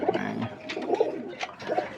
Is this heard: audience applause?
no